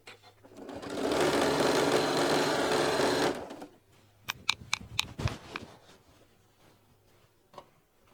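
A sewing machine stitches fabric strips in a steady, smooth whirring run of about two seconds, then stops, followed by scattered clicks and handling noises at close range.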